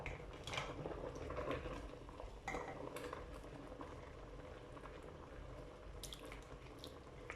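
Freshly blanched vegetables lifted from hot water into a bowl of ice-cold water, soft faint splashes and sloshing with a few drips, recorded close and quiet with no talk.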